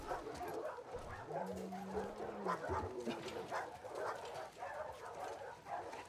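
Dog in the video game The Last of Us Part II, faint short barks and whimpering yips under a busy game background.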